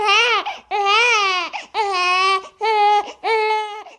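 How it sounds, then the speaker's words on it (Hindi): Infant cry set in a horror story, a series of five drawn-out wailing cries with short breaths between, loud and close with nothing else around it. "छोटे बच्चे के रोने की आवाज।"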